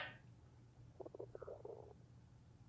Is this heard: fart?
yes